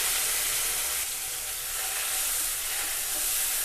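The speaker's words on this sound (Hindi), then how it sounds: "इसको भी हम टमाटर को सॉफ्ट होने तक भून लेते हैं।" Finely chopped tomatoes with ginger frying in a pan for a spinach dal tadka, giving a continuous close, even sizzle and hiss with no talk.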